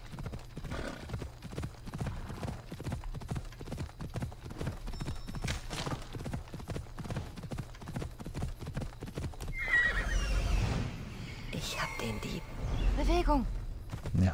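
Phobos, a horse in Assassin's Creed Odyssey, gallops in a rapid, continuous run of hoofbeats, loud and close, and whinnies toward the end.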